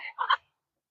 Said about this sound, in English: Hello, duck.